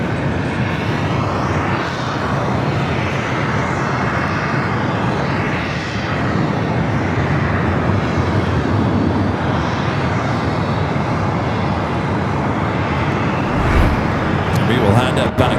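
An airliner taxis at Los Angeles International Airport, making a right-hand turn onto taxiway November toward the north side. Its engines give a steady, loud rumble and hum throughout, with a voice talking over them.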